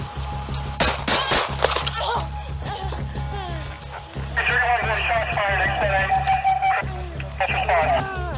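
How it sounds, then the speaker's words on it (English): Several sharp gunshots in quick succession during a police confrontation with an attacker, loud and close, followed by shouting voices and crackling radio chatter. "Shots fired."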